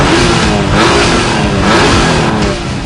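A TVR 350, a Honda NSX and a Porsche 911 accelerate together in a drag race, their engines giving a loud, dense, continuous roar that surges and swells throughout without speech.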